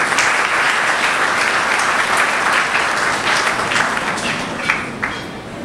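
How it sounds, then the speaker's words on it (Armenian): Sustained applause from an audience fills a hall, dense and loud throughout, tapering slightly toward the end. "կարող են ծափահարել"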